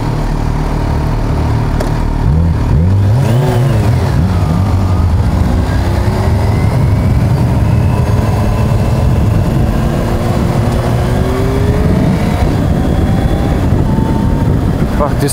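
A 2021 Kawasaki Ninja H2 SX sport-tourer accelerates with rising and falling engine revs through quick-shifter gear changes, loud and close amid heavy wind roar, with a rider talking.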